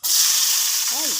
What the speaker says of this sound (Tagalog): dito na natin igigisa ang ating sibuyas at bawang sa ating pinagprituhan ng isda